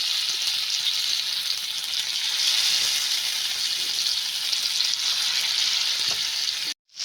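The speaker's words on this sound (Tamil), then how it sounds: "தோசைக்கல்ல மீன் எடுத்து வச்சிடலாம்." Murrel fish fries on a dosa griddle in oil, giving a loud, continuous close-up sizzle and crackle that holds steady before cutting out abruptly near the end.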